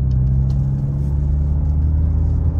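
Car being driven: a loud, steady low engine drone and road rumble inside the cabin, continuous throughout with no voices.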